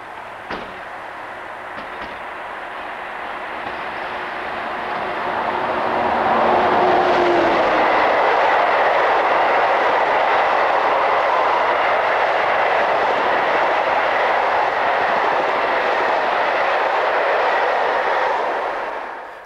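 SNCF BB15000 electric locomotive number 15004 racing through La Rueville with a train, a broad roar that swells after a few seconds and then holds steady and loud before easing off at the end.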